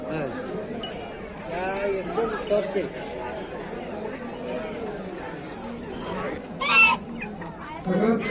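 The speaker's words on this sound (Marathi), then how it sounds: "इकडे बदक राजा हंस आहे तिकडे" Swans and ducks honk and quack in a noisy flock at an agricultural exhibition, with people talking nearby and a few clinking sounds.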